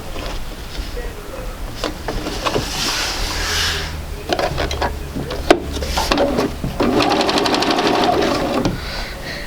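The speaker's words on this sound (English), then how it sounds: "I'm going to just match my corners and sew again 1/4 inch." Sewing machine stitching a quarter-inch quilt seam, with close bursts of rapid mechanical whirring broken by short pauses and small handling clicks.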